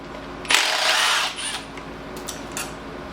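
A power tool whirs in one short burst, spinning bolts off the thermostat of a Nissan 350Z engine, then stops, leaving faint clinks and quiet shop background.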